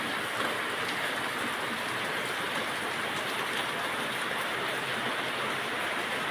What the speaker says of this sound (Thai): ทางนี้ฝนตกแต่เช้าเลย